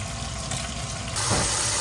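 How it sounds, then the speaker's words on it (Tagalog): Cold tap water pours steadily over freshly boiled eggs, a constant broadband rush that grows louder and fuller partway through as the flow increases, close to the microphone with no talk. "Basain natin ng malamig na tubig para madaling balatan ang ating egg"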